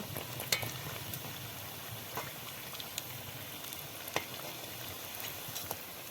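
A Maggi-masala snack fries until reddish, giving a faint, steady bubbling sizzle with scattered small pops and an occasional light stir, quiet and close throughout.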